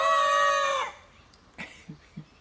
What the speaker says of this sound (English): I got a herd of chickens.